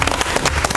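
Audience applause at an event pitting media against Instagram bloggers, loud close clapping from a crowd in quick sharp bursts, briefly and without talk.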